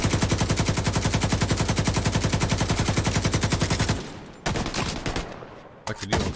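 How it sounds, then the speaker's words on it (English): A light machine gun in The Division 2 fires a long, rapid, loud burst of evenly spaced shots, then breaks off into a few scattered shots and clatter. "light machine gun's beast as shit, bro."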